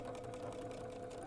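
A sewing machine stitching a quarter-inch seam on a small quilted basket made from fabric squares, running in a steady, rapid, unbroken whir throughout.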